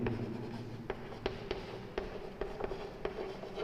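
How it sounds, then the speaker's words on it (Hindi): Someone writes on a board with a series of sharp taps and short scratches in an irregular rhythm, close but fairly quiet over a low room hum, with no speech. "नेक्स्ट लाइन में लिखेंगे"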